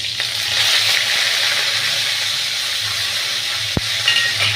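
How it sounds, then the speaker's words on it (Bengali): Curry leaves dropped into hot oil in a pan of chicken with green chillies and cumin, a loud, steady crackling sizzle throughout with a brief sharp pop near the end, no talking. "এইবার দিচ্ছি কারি পাতা"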